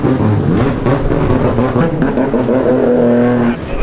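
A six-rotor Mazda RX7 engine runs loud and steady at close range, a dense rumbling drone with a sustained high tone near the end and no talk over it.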